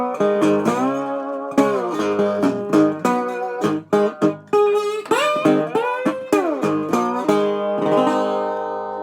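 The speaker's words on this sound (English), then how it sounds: "Unplugged, the guitar sounds like this." Resonator-style acoustic guitar played unplugged by a blues player, bright picked notes and slide-like bends in a steady, close rhythm, played alone with no talk.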